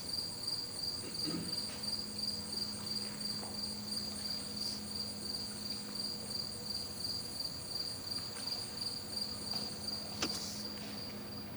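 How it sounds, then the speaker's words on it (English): Dense outdoor insect chorus of crickets and cicadas by a lakeside campfire at night, a steady high shrill buzz and pulsing chirps running unbroken and fairly loud throughout, with no talk. "surrounded by the crickets and cicadas."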